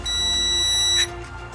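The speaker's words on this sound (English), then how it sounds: "that's our 1 minute timer" A kitchen timer going off with a sustained, high, piercing electronic beep that holds for about a second, then cuts off, leaving room noise behind it.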